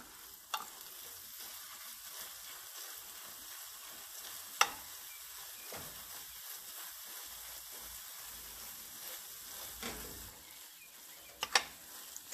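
Thick Habshi halwa with pecans and almonds stirred in an oily pan, a steady low sizzle running throughout with a few sharp spoon scrapes and knocks standing out, close and alone.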